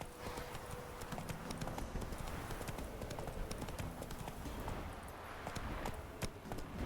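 Roach, a horse in The Witcher 3: Wild Hunt, gallops with fast rhythmic hoofbeats drumming steadily and close throughout, set against game ambience.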